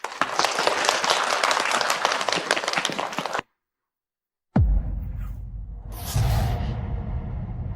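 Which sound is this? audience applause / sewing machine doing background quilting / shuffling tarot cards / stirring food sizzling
audience applause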